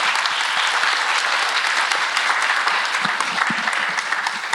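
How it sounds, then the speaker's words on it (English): Warm, continuous applause for panelists at a smart growth summit, a full room clapping steadily and evenly throughout with no voices over it. "one more round of applause for our panelists"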